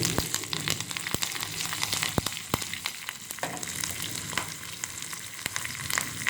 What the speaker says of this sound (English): curry leaves, almost 15 to 16 pieces, and asafoetida, hing. And now let's mix it once.